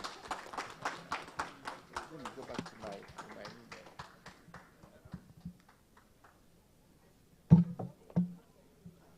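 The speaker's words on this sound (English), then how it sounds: "give them a round of applause" A small audience at a Ghanaian health stakeholders' meeting gives a brief round of applause for panel members, scattered claps fading out within a few seconds, then near silence broken by a couple of sharp knocks and low voices.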